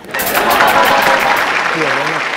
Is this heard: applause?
yes